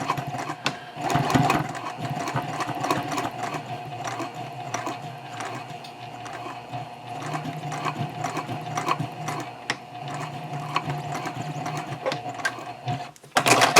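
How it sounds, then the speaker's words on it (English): A sewing machine stitches in the ditch along a folded binding edge, its needle clattering in a fast, even mechanical rhythm close up, pausing briefly near the end. "So I'm ready to stitch in the ditch here."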